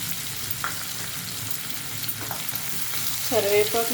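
Onion, green chili and curry leaves fry in a pan, a steady close sizzle broken by a few stirring scrapes and a louder crackle near the end.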